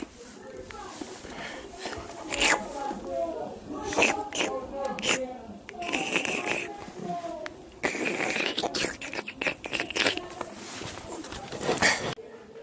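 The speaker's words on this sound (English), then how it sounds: "there's a crazy party going downstairs" A noisy party carries up from downstairs, with muffled voices, shouts and thumps arriving in irregular bursts at moderate distance, and a nearby voice talks intermittently over it.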